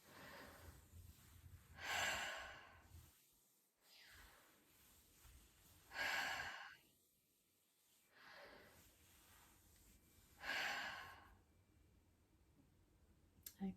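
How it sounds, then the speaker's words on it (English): Slow circular mouth breathing repeats in three long, close, breathy waves, each swelling and fading with quiet pauses between, alone and faint. "you're going to do mouth breathing."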